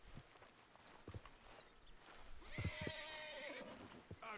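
A horse whinnies in Red Dead Redemption 2, a drawn-out, wavering neigh near the middle over soft hoof clip-clops and low ambient game sound, fairly close and moderately loud.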